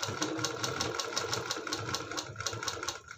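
A sewing machine stitches a fabric strip in a fast, steady rhythmic chatter of needle strokes, running continuously and close up with no talking.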